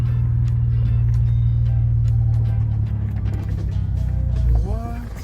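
A Honda Del Sol driving with a quiet exhaust, heard as a low, steady engine hum from inside the car that swells slightly near the end.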